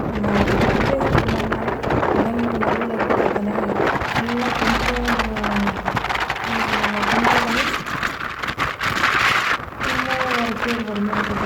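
Heavy rain pours steadily, a loud unbroken hiss that fills the whole stretch, while a person keeps talking over it.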